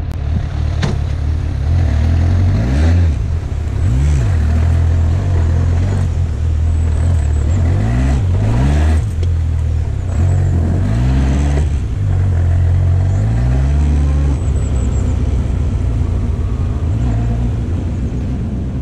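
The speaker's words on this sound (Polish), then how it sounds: "Piąty dzień jazdy na motocyklu się rozpoczyna" A motorcycle rides along road 7A in Romania on a long touring trip, its engine droning steadily close to the microphone with repeated rising and falling revs as it shifts through the gears, and rumbling wind noise underneath throughout.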